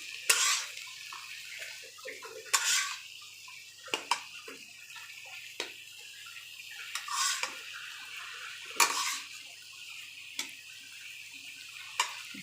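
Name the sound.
stir-frying small radish with dried fish in a pot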